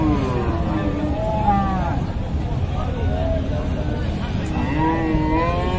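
Sahiwal and cross-breed fattening bulls low and moo at a busy cattle market, several drawn-out calls rising and falling over a constant hubbub of crowd chatter and market noise.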